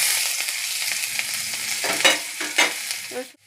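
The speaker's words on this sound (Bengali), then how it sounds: "রসুনটাকে আমি লাল করে ভেজে নিব" Garlic and dried red chilli fry in hot oil for a lentil tempering, a steady bright sizzle with a few louder stirring scrapes near the end, close and with no voices.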